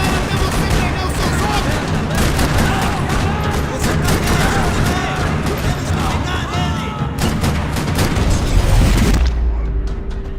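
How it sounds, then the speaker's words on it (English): Dense rattling gunfire fills a parking lot in the video game Max Payne 3, loud and continuous bursts with booming impacts and no pauses throughout. "Another parking lot rattling with gunfire."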